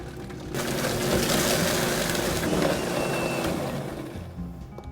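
Vitamix blender switched on at low speed to purée herbs for a New England clam chowder sauce: a sudden motor whir starts, then a steady dense buzz for several seconds before easing off.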